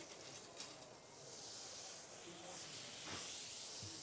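Grapefruit juice poured into a hot pan to deglaze it, producing a soft continuous steamy hiss with a few brief crackles, faint and close.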